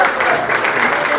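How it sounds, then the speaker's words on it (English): Applause from an audience at a Kashmir conference in Dallas, Texas, a dense steady patter of clapping with some voices mixed in, filling the short moment at a constant level. "Give a huge round of applause to them,"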